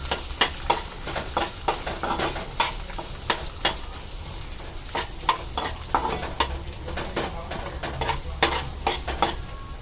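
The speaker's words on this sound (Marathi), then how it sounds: "हा कांदा टाकूया, त्याचबरोबर अद्रक लसूण आणि हे आपण एकदा मिक्स करून घेऊ" Chopped onion, ginger and garlic sizzle steadily in a hot pan for paneer kadai masala, with a spoon scraping and stirring in a quick, uneven rhythm, close and fairly loud throughout.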